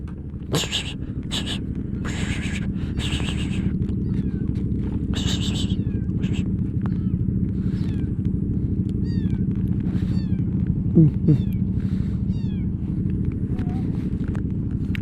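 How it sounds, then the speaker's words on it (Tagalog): Several cats meow in short calls over the steady low engine rumble of a Honda ADV 160 scooter, with a few scattered faint footsteps. "wait lang, ang dami pusa."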